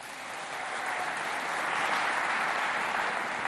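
Steady, loud applause from a school audience cheering students at a middle-school math competition, dense clapping that swells and holds evenly throughout.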